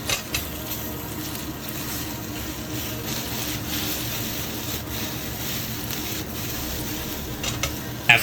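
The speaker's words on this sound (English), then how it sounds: "And then continue to stir fry." Chicken pieces stir-fried in a hot wok, a steady continuous sizzle with scraping and stirring of the spatula throughout, close and fairly loud, with a few sharper clinks near the start and end.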